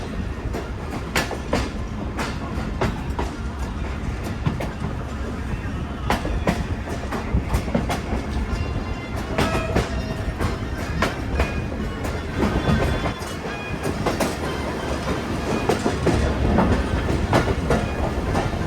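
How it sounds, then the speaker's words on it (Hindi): A passenger train creeps along the rails through heavy winter fog, its wheels knocking out an irregular clickety-clack over a continuous low rumble, close and fairly loud the whole time. "आप देख सकते हैं ट्रेन कुछ इस तरह की रफ्तार में आगे बढ़ रही है"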